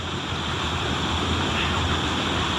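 A steady, broad roar of a small amount of rushing water near Mother Cap rocks fills the scene continuously, loud and unbroken, with no voices.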